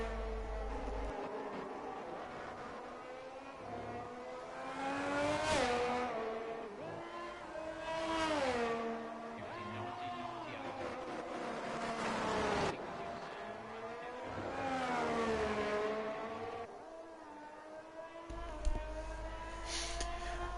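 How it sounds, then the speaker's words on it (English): A bright red Ferrari race car in a racing video game at the Canada round, its engine whining through repeated rising and falling revs as it shifts gears, steady and fairly loud, with no talk. "And get some car sounds onto the screen here."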